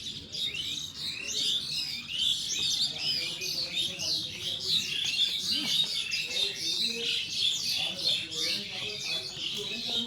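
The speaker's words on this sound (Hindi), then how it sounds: "देखना ऊपर से पशु पक्षियों की कितनी सुंदर आवाज आ रही।" Birds chirp and sing in a dense, continuous chorus around a temple at an ashram on the Narmada parikrama route, with faint low voices underneath throughout.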